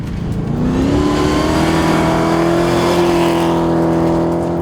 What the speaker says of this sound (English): It is Stuart Bowes having another great run in that magnificent Mercedes.